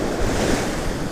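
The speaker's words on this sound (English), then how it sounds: "The waves, you know? Sometimes the waves, man, the waves." Ocean surf washing and breaking along a beach during a day of surf fishing, a steady, loud broadband roar with gusty wind buffeting the microphone and no voices.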